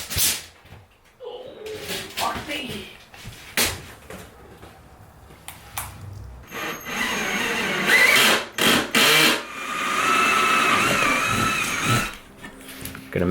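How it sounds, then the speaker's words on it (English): A power drill bores through a cardboard template in a bike workshop build, with several short whirring bursts and a longer sustained run, close and loud, separated by handling clatter. "drill through the cardboard"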